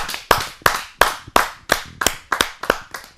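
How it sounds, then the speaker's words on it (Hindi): Nine or ten separate hand claps from the audience at a kavi sammelan poetry gathering, sounding in a steady rhythm as a poet is welcomed to the stage, close and clear with no voices. "आइए जोरदार तालियों से आमंत्रित करते हैं देश के एक ऐसे ही शायर"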